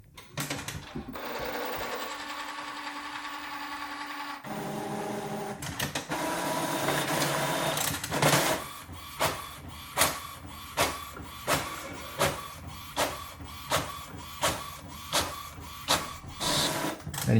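An Epson XP-7100 printer runs a print job, starting with steady mechanical whirring and shifting motor tones, then settling into a regular series of loud, rhythmic clunks as the page feeds and the print head moves, heard close up with no talking.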